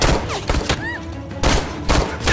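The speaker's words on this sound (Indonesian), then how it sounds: "Kemudian si Lei masuk dan aksi tembak-tembakan pun dimulai." Gunfire in an action film shootout, several loud bursts of shots cracking in quick clusters with brief gaps between, close and punchy over a cinematic background.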